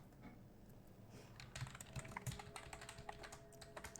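Computer keyboard keys clatter in quick, irregular bursts while someone types code, a close, moderately quiet run of clicks that picks up density partway through.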